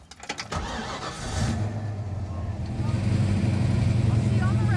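A 1967 Mercury Cougar engine cranks with a few quick starter turns, catches and settles into a loud, steady rumbling idle that swells toward the end, with a voice speaking early on.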